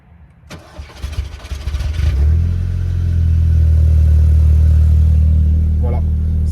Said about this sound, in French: Voilà, ça c'est le son à froid de la voiture.